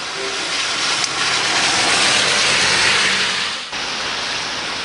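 Heavy downpour drumming on a car in Aomori during a drive from the station area, a loud dense hiss that swells, then drops abruptly and continues steadily, with no talk.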